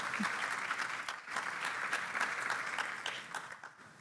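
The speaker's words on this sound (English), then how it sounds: "So please, an applause to all of this excellent panel that we will have here." A conference audience applauds a panel at a summit, a sustained spread of many hands clapping, moderately distant and even throughout.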